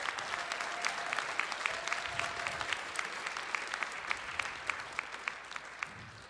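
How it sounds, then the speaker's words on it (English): A fan convention crowd at a writers panel applauds, a sustained wash of clapping from many people in a room with sharper individual claps popping out near the front, steady throughout. "it's something that I think you deserve some applause for"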